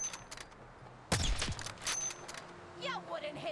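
A sniper rifle in modded Fallout 4 fires a single sharp, loud shot that rings out and decays, followed by a second fainter crack and a few softer game noises in a quiet outdoor setting.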